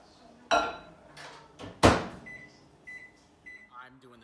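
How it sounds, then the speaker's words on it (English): A microwave oven melting mozzarella cheese for keto fathead pizza dough, with two sharp clunks of the door and handling followed by a few short, high electronic beeps in a quiet kitchen. "you melt it in the microwave for 30 to 45 seconds"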